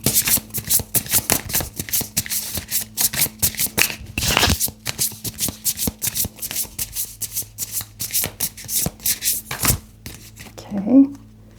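Tarot cards are shuffled and drawn from a deck close to the mic, a run of rapid riffling flicks and slaps in bursts, with a quiet voice now and then and a soft thump at the end.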